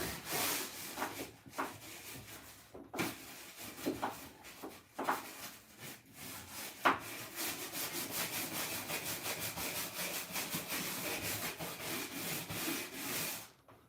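A hand scraper works across a kitchen floor, lifting old glue in a run of repeated rough scraping strokes, spaced at first and then quick and steady, close by with no talk.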